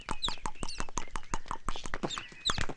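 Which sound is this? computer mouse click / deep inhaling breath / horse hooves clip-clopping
horse hooves clip-clopping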